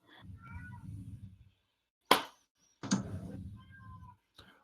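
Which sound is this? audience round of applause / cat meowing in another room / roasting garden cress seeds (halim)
cat meowing in another room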